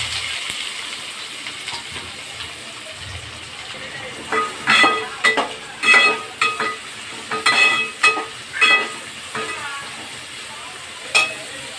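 Mustard seeds pop and splutter in hot oil in a pan while cooking a tomato thokku, a run of sharp crackling bursts close by over a low sizzle, heaviest in the middle stretch.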